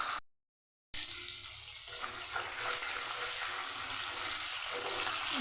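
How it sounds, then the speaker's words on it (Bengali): Pieces of katla fish head fry in a pan with a steady, close, broadband sizzle that continues evenly after a brief cut at the start. "আমার মাছ ভাজা হচ্ছে"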